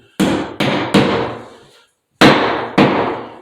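Wall anchors being tapped in with a hammer for a towel bar: five sharp, ringing blows in two quick groups, each decaying briefly, close and loud with no talking.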